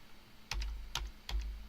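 Three separate clusters of computer keyboard key presses, close and fairly quiet, each a short burst of clicks spaced about half a second apart against a low background hum.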